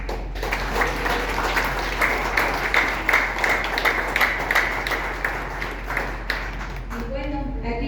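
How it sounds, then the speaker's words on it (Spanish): Audience at a book presentation applauds warmly, a dense, sustained wash of clapping close by that fades near the end as a voice begins speaking. "fuerte aplauso"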